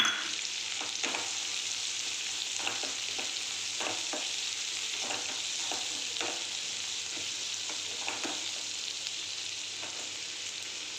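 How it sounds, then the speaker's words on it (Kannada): Onions and green chilies sizzle steadily in a hot pan for pepper chicken, a constant close frying hiss with occasional soft stirring scrapes and no talk. "ಈರುಳ್ಳಿ ಹಾಕ್ತಾಯಿದ್ದೀನಿ. ಈಗ ಈರುಳ್ಳಿ ಹಾಕ್ಕೊಂಡಿದ್ದೀನಿ."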